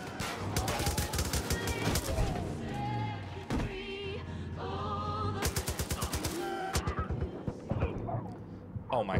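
Gunfire in the video game Far Cry 5, bursts of rapid shots and single cracks mixed with game sounds and shouting voices over a busy action scene.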